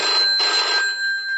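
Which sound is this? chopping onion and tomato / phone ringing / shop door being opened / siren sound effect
phone ringing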